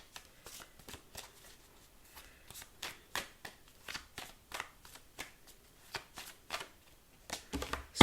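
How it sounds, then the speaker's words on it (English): Tarot cards are shuffled by hand in a quick series of crisp riffling bursts, close and fairly quiet, with short pauses between each flurry and no talking. "I've been shuffling"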